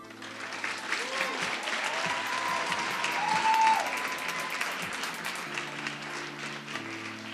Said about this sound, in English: Let's give another round of applause to all of our contestants for Miss Bermuda 2015